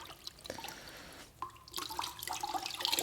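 Water runs and drips faintly as a cleaning rag is wetted to wipe down a CFMoto Z950 Sport side-by-side. Small splashes and trickles come in irregular bursts, some close and some a bit distant, with no talking.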